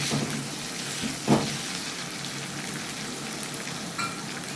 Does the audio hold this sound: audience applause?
no